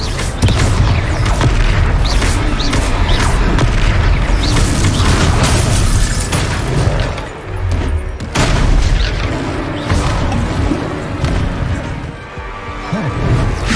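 The Confringo fire spell explodes in the video game Hogwarts Legacy, giving loud, booming blasts and crashing bursts in a dense, continuous battle din with short pauses, while in-game characters call out over the fighting.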